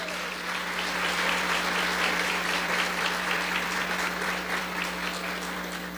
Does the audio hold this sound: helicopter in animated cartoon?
no